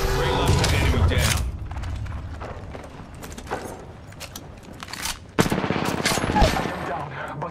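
Bursts of gunfire from the Apex Legends game, rapid cracks clustered near the start and again toward the end, mixed with mechanical clatter and game effects at steady moderate loudness.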